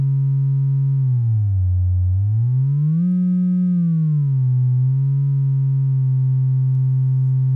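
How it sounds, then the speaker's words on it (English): A pure synthesizer sine wave patched through a VCA sounds as one smooth, loud, continuous tone whose pitch glides down, rises, then settles and holds steady. "So, that's a sine wave."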